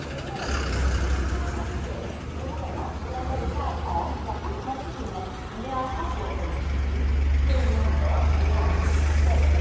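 A city bus pulls up outside Charlapalli railway station in the morning. Its deep engine rumble swells louder toward the end, with street noise and distant voices around it.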